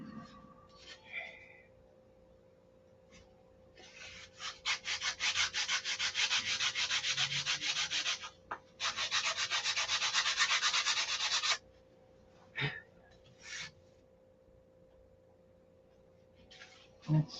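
Hand sanding of a wooden hinge with sandpaper from a roll, two long stretches of steady rhythmic back-and-forth rasping, close and fairly loud, separated by a brief pause, with quieter handling knocks around them.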